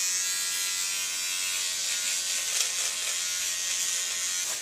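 A Conair electric shaver with a pivoting head buzzes steadily and loudly up close as it runs across skin, a continuous high whir with slight changes in pitch and no talking.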